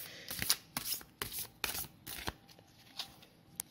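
Soul Cards tarot deck being shuffled by hand, a quick run of crisp riffling card bursts and slaps close to the microphone, with no talking.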